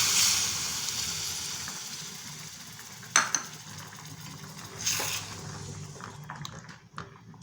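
Steady sizzling of garlic sautéing in a pan, with a few soft clinks and scrapes of a utensil stirring, close and moderately loud.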